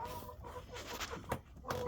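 A broody Brahma hen gives low, soft clucks close by in a coop, a few brief muttering calls over a quiet background.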